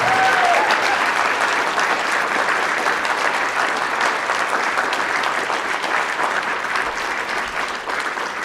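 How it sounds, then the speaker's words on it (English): A conference audience applauds data collectors with dense, steady clapping that holds loud and even for about eight seconds, easing slightly toward the end. "give a big round of applause to all these data collectors"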